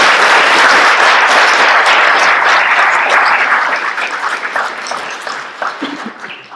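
Loud audience applause at a retirement reception, a dense wash of many hands clapping that holds strong for several seconds, then thins and fades into scattered claps.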